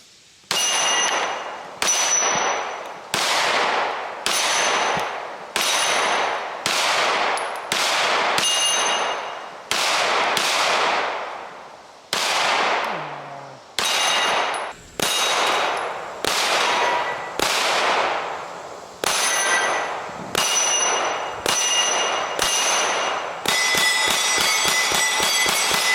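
Shots from a 10 mm pistol ring off a steel Texas Star target at an outdoor range, about twenty sharp close bangs each followed by a metallic clang, spaced roughly a second apart, with a faster cluster at the end.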